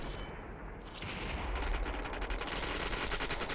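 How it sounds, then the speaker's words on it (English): Rapid automatic gunfire from the video game Population: One, with dense, continuous rattling bursts at moderate volume and no voices. "Shooting at Chives outside the zone over here"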